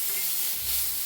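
Peanuts, chillies and coriander for masala mirchi being stirred in a frying pan, a steady close sizzle with soft scraping, no voices.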